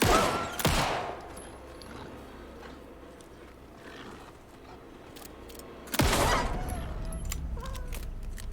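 Gunfire in Alan Wake 2: two loud, sharp bursts of shots, one near the start and one around the six-second mark, each followed by a ringing tail over a low game ambience.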